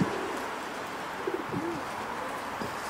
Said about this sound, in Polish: Czuję to gołębie przyleciały.